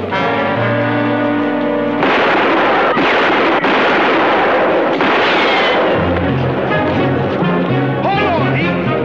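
Loud gunshots and booming blasts ring out in a classic western TV show, coming as several sharp close reports over about nine seconds with music playing underneath.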